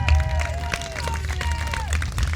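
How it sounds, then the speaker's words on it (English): A crowd at a Fourth of July parade in Fairhaven applauds and cheers steadily for the grand marshal while a voice carries over the clapping. "big round of applause for Elaine today."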